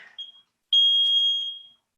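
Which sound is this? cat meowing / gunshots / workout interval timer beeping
workout interval timer beeping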